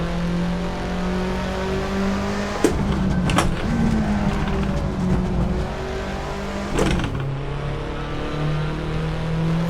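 A Ford Sierra Cosworth RS500 race car in Assetto Corsa on the Nordschleife holds a steady, loud engine drone. Two sharp breaks near the start of the clip and another near the end mark abrupt gear shifts.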